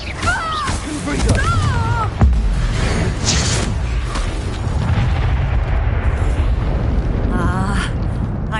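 In Hogwarts Legacy, a Confringo fire spell goes off as a loud, booming blast, with a burst of combat effects and voices before it and a rumbling, whooshing tail through the rest of the fight.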